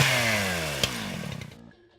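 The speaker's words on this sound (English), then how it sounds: "Or a good chainsaw." A chainsaw from the horror adventure game Harvester revs loudly and then winds down, its rough pulsing drone sputtering out over about two seconds with a sharp click midway.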